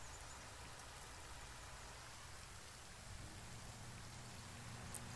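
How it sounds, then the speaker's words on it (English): Steady rain pours down in Farming Simulator 19 on an alpine farm map, a dense, even hiss of falling water with a low rumbling undertone, continuous and unchanging, with no voices. "We can't harvest in this rain at all."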